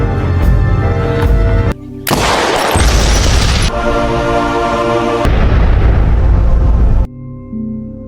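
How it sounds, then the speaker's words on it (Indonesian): A loud, dense film-soundtrack blast as explosives are shot, heavy booming and crackling layered over music, rising and dropping in a few abrupt sections before falling quieter at the end. "langsung menembak bahan peledak yang ada di dekat Hank sehingga menyebabkan Hank tewas seketika"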